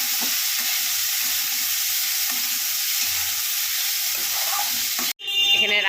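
Fenugreek leaves with potato and eggplant fry in hot oil, a loud, steady close-up sizzle that runs for several seconds before breaking off abruptly into clattering stirring.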